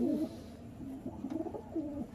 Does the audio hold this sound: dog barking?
no